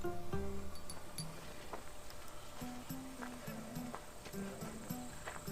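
Horse hooves clip-clop in Assassin's Creed Odyssey, with a few brief tonal neighs and snorts over a steady ambient bed, fairly close but modest in level, and some game voice underneath.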